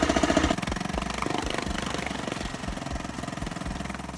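A small Honda 2.3 hp four-stroke outboard engine runs steadily with a rapid, rattling mechanical chatter, loud and close, continuing throughout without talk.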